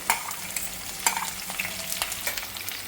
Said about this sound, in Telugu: టమాటాలు కూడా ఉల్లిపాయలు కూడా పచ్చిమిరాలు కూడా వేసేస్తున్నాను